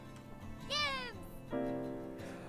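A cat meows in The Sims 4 with two drawn-out, rising-and-falling calls separated by a short pause, heard over steady game background music.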